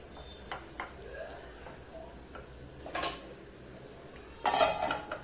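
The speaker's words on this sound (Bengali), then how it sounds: "দু মিনিটের জন্য ঢেকে এপিট ওপিট করে ভালোভাবে ভেজে নেব।" A moong dal veg omelette fries in a covered pan with a soft sizzle, while a spatula and lid clink and clatter against the pan, loudest near the end.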